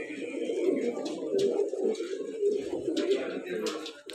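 Pigeons kept as a home hobby flock, including a Kaldumba pigeon brought from Chennai, coo in a steady murmuring chorus close by, with soft wing and movement noises over the top and no talking.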